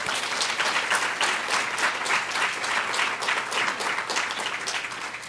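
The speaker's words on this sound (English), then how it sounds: "So round of applause." Audience at a panel event on ending violence against women and children gives a steady round of applause, dense and sustained clapping throughout at moderate loudness with no talk.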